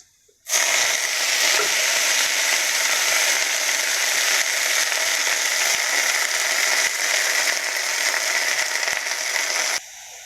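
Drumstick leaves hitting hot oil with mustard seeds and dried red chillies, giving a loud, steady, close sizzle and fry that starts abruptly and holds for about nine seconds before cutting off.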